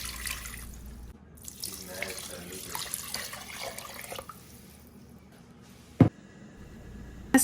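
Water from a tap runs steadily into a soup pot with garlic cloves, bay leaves and salt for Tex-Mex chicken tortilla soup, a close splashing stream that stops before a couple of sharp knocks.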